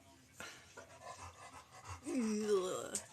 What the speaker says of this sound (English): the dog panting in the background